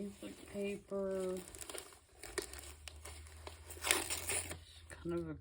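Crinkly music paper crackles and rustles up close while someone handles it, with short bursts of voice sounds in between.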